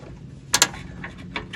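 A mower deck height lever on a lawn mower is shifted, giving a quick pair of sharp metallic clicks up close, followed by a few fainter clunks and rattles.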